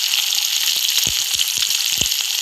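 Peanuts tipped into hot oil already holding cumin, mustard seeds and chili, giving a steady bright sizzle with a few soft knocks and scrapes of a spoon against the pan, no voices.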